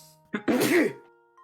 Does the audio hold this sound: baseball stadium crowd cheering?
no